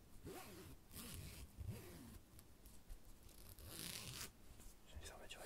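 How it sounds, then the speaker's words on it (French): A clothing-style zipper is pulled open and shut several times in close, soft ASMR strokes, with quiet whispered speech in between the zips. "Le bruit de cette fermeture éclair ressemble aux fermetures éclair d'une tente."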